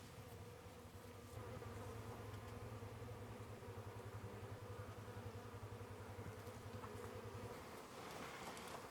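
Honeybees buzz around an open beehive during an autumn inspection, a dense, continuous drone close by with a few individual bees passing near, and no talking.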